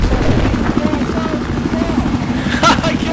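A helicopter in a video game thrums with a steady, close rotor throb and engine drone, with voices talking over it.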